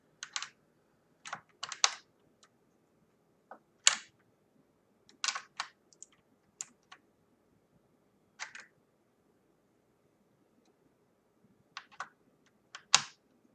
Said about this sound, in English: I'm using a 13 millimeter socket with an extension to reach the eccentric